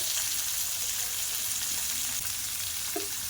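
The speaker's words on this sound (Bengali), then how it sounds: "তো এগুলো মশলাগুলো হালকা ভাজা করে নেব।" Spices, onion, ginger, garlic, tomato, cashews and green chillies lightly frying in a pan for chicken curry, a steady close sizzle with a faint clink near the end.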